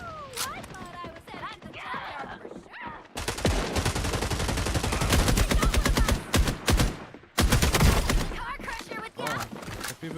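Automatic weapons fire in a video game: long, rapid bursts of gunshots, loud and close, rattling almost continuously through the middle with brief pauses, while a player talks over the action.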